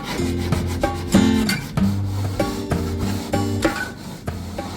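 Fiberglass being faired on a small boat hull, heard as repeated rasping, rubbing strokes in an uneven rhythm, close and fairly loud, with steady tonal sound underneath and no talk.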